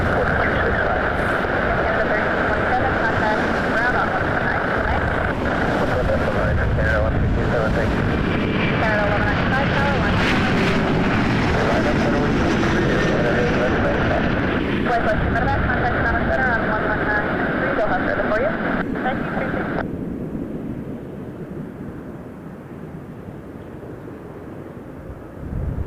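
WestJet Boeing 737 MAX 8 jet in from Liberia, Costa Rica, roaring loudly and steadily at Toronto Pearson before abruptly dropping to a quieter rumble near the end, voices present.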